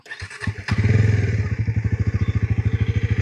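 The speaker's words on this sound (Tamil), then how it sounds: "எப்படி இருக்குது வண்டியோட சத்தம்" A Bajaj Pulsar NS 400 Z motorcycle self-starts with a brief cranking clatter, then its engine catches and settles into a loud, close, steady throbbing idle with an even pulsing beat, no talking.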